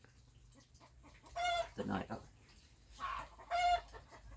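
Chickens cluck in short bursts a few times, moderately close, with someone talking briefly between them.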